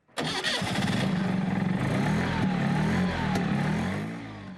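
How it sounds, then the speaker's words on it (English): An NSU 50-horsepower Wankel rotary engine cranks and catches, then settles into a steady, buzzing mid-pitched run with a faint whine, heard close and fairly loud without talk. "Humming underneath, almost like a turbine, was the 50-horsepower Wankel engine."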